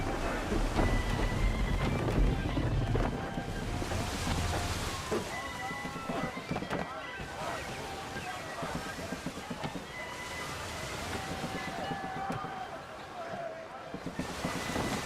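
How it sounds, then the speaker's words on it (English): A strong wind roars across the sea around a sailing ship in Assassin's Creed 3, a continuous loud rush of air and water that stays steady from start to finish. "Rogue wind!"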